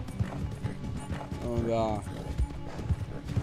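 Hooves of a galloping horse in Red Dead Redemption 2 beat in a steady clip-clop rhythm, with a brief whinny partway through and people talking over it.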